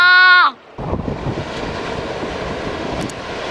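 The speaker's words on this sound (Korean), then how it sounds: "아마 이 바다 소리가 들리실 텐데" A short tonal hum cuts off, then a steady wash of surf and wind rolls on, broad and continuous, close to the microphone.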